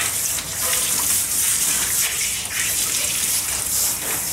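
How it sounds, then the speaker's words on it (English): A shower nozzle sprays water while rinsing a dog in a dog washing system fed by an outside water supply, a steady loud hiss and gush of spray with slight surges, running throughout. "And right now I'm rinsing the dog."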